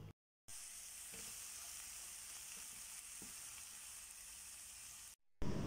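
Onion and garlic fry in a pan with a steady, close hiss of sizzling oil and a few faint clicks of stirring, framed by brief silences at the start and end.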